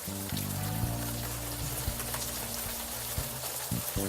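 Rain falling in the video game Unavowed, a steady hiss of drops with soft patter, under a low tonal music bed with shifting notes, moderately loud and continuous, no voices.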